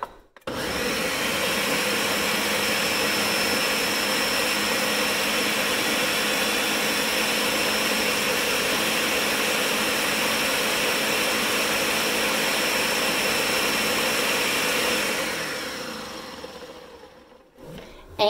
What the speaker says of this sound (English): So once you have all of the rest of your ingredients in, put the lid on your blender